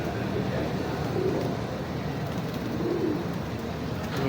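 Soft, low pigeon coos repeat a couple of times over a steady background hum, faint and somewhat distant.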